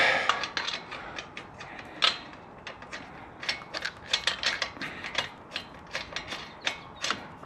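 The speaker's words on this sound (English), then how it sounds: "And we gotta torque them down to right around 150." A ratchet tightens lug nuts on a 2024 Mustang GT, giving bursts of quick metallic clicks in an irregular rhythm at close range, with no talk.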